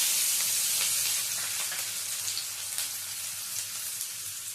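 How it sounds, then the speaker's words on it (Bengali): Diced potatoes with salt sizzling in hot oil in a pan, a steady dense hiss that starts loud and eases slightly, with faint crackles throughout and no voices. "আলুটা এবারে হালকা ভেজে নেব।"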